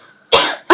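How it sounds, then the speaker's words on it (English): Two close, loud coughs from one person, a longer first burst followed by a short second one after a brief pause. "Hold on, I need a cough."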